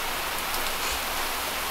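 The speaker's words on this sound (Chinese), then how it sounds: "然后现在超级大的暴雨" Heavy rainstorm in the Dolomites mountains, a dense, steady roar of pouring rain that fills the whole moment without pause, close and loud.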